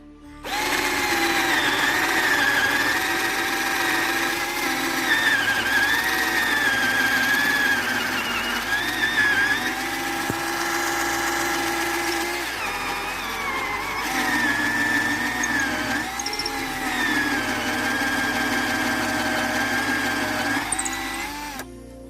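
A repaired electric drill, whose motor had been sparking and smoking, runs steadily with a high whining hum that shifts pitch slightly under load, with short dips and restarts throughout.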